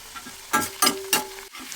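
Curry leaves hit hot oil for a broad bean fry and crackle in three sharp, loud spattering bursts about a third of a second apart, then settle to a softer sizzle. No one talks.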